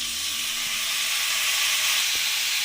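Soy sauce hitting a hot pan of fried onion, capsicum, green chilli and garlic for restaurant-style chicken Manchurian gives a steady, loud broadband sizzle and hiss, close and continuous with no talking.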